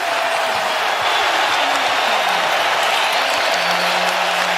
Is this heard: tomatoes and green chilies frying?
no